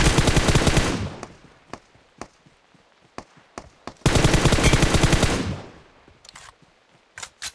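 AK rifle fire in PUBG Mobile: two long, loud sustained bursts of automatic gunfire separated by scattered single shots and short taps, with further isolated shots at the end.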